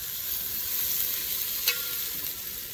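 Onion fries in oil over high heat, a dense, even sizzling hiss that stays steady throughout with a single brief sharper crackle partway through.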